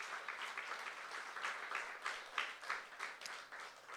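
Church congregation at a youth worship service clapping in a steady, moderately loud burst of applause, with faint voices mixed in.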